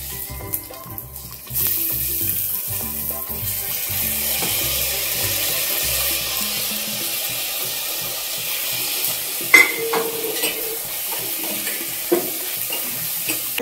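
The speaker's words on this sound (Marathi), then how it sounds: "आता आपण त्याच्यामध्ये तांदूळ टाकून घेऊया." Basmati rice tipped into hot ghee in a pan for coconut rice, with continuous stirring and scraping over a steady sizzle, a few sharper clinks of the spoon against the pan near the end.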